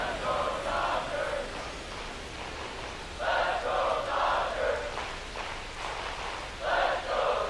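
A virtual baseball stadium crowd in MLB The Show 25, Dodgers vs Cubs, keeps up a steady roar that swells in several loud surges as the pitches build, with no clear voices standing out.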